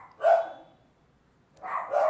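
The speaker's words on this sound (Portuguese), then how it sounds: "E pior que nem são os meus cachorros, são os cachorros do vizinho." Neighbouring dogs bark somewhere nearby, a short volley at the start and another pair of barks a second later, fairly loud and clear.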